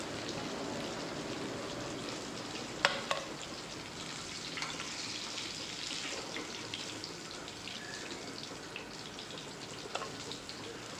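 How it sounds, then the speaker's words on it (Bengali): Katla fish pieces fry in oil with a soft, even crackling sizzle, fairly quiet and continuous, broken by a couple of brief utensil clicks. "এবারে এই মাছগুলোকে আরও জাস্ট কিছুক্ষণের জন্য ভেজে নেব, বেশিক্ষণ নয়।"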